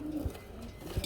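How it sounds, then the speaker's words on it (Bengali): Pigeons from a breeding loft of Bombay, Coca, Huma and racer breeds cooing in low soft throbs, two short calls about a second apart, close and alone. "দেখেন কি ডাকাডাকি কবুতর দেখতে পাচ্ছেন বন্ধুরা"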